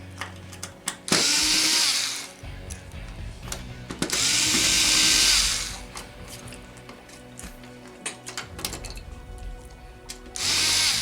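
A power screwdriver backs out number 2 Phillips screws from the stand brackets of a TCL 55-inch Roku TV, 55S401, in three bright whirring bursts separated by quieter clicks and handling noises.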